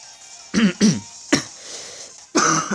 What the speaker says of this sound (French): Oh, excusez-moi vraiment la toux.